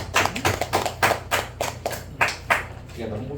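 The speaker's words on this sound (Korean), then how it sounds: "수고하신 목사님께 감사의 박수 드리겠습니다" Brief clapping from a church congregation for the pastor, uneven and fairly close, dying away after a few seconds.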